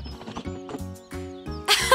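A cartoon horse fitted with new racing shoes clip-clops in a quick run of hoof knocks, then gives a bright whinny at the end, all with a musical, animated quality.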